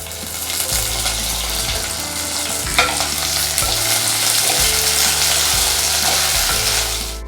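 Green chillies frying in a pan for a green tomato chutney, giving a loud, steady sizzle with a rhythmic scrape of stirring, close up and without talk.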